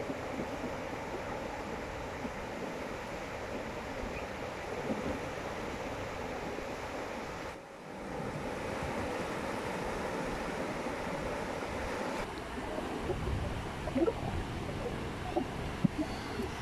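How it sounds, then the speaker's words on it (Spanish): Ocean surf rolling onto the beach at Galveston, Texas: a steady, moderately faint wash of waves mixed with wind buffeting the microphone, with a brief dip midway. "Ya nos encontramos aquí en la playa, vamos a meternos un rato al mar"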